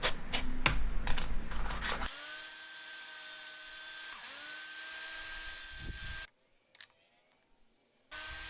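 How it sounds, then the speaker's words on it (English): A power sander works the bottom front edge of a wooden stop block, holding a steady high whine for several seconds. Its pitch dips briefly under load, then it stops, leaving a short stretch of near silence before the whine returns. "Sanding the bottom front edge"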